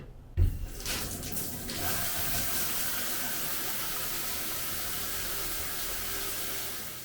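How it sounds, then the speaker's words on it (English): Hotel bathroom shower in an inn room running steadily after a brief knock at the start, a constant broadband hiss of spraying water filling the room, close and even throughout with no talking. "Here's a test of the shower."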